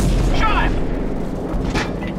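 Heavy cannon fire from an AC-130 gunship in Call of Duty 4: Modern Warfare, a sustained loud rumble with distant booms under radio-style voices talking.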